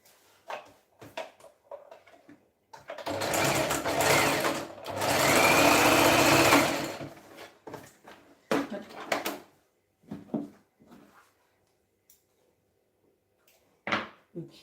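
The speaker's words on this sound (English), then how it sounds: "we're going to do stitching" A sewing machine stitches in two sustained runs, the second longer and steadier, with light clicks and handling noises in between and brief quiet gaps.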